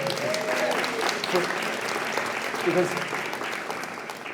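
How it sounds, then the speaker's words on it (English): An audience at an evening celebration event in Dublin gives a warm, steady round of applause, dense clapping filling the room throughout with some voices mixed in. "Give yourselves a round of applause just for turning up."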